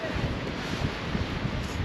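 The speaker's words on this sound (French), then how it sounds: "Il y a un tout petit peu de vent à peine." Light breeze on a coastal hillside at Cassis in late November, a soft continuous wind hiss with faint microphone buffeting, steady and low in level with no voices.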